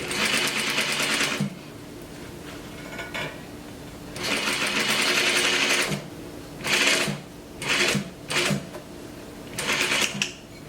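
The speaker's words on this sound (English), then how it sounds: "I'm going to go ahead and put that 1/4 inch top stitching on there" Bursts of a sewing machine topstitching bias-cut fabric, a long run then several short spurts separated by quiet pauses, close and fairly loud.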